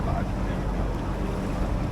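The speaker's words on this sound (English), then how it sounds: "It's a little windy." Wind buffeting a yacht off Malekula, Vanuatu, a constant rushing roar with low rumbling gusts against the microphone and no clear pauses.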